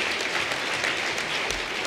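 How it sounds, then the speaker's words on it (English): A crowd at an Asian awards ceremony breaks into continuous applause, a thick, even roar of many hands clapping at once, filling the brief moment without any talk. "a huge round of applause for Paul Sagu"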